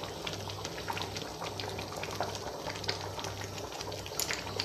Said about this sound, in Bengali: আর ডালও টকবক করে ফুটছে